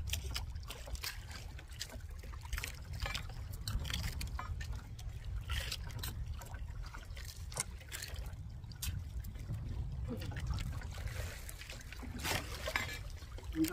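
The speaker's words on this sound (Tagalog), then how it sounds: "Nalalaki ang alon." Big sea waves rolling and sloshing around a boat out on open water, a low continuous rumble with irregular splashes, heard faintly and steadily without speech.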